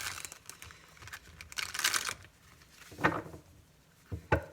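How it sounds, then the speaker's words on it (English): Papery shuffling and riffling of tarot cards in short bursts, close and soft, with a few quick flicks toward the end. "let's do a quick little shuffle"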